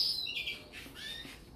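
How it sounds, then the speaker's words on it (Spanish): Young pet birds hatched this year give a few short, high, thin chirps at moderate distance, brief and scattered in a quiet room. "Estos pájaros son nuevos de este año, ¿vale?"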